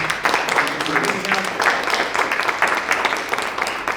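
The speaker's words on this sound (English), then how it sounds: "let's give a round of applause again" Applause from the audience at a visiting writers series reading, a steady wash of many hands clapping close by, with faint voices mixed in underneath.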